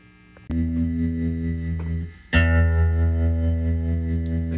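A 1970s AIMS VTG-105 guitar amp with its spring reverb engaged. Two loud strummed chords ring out, each sustaining with a washy reverberant tail, and no talking is heard.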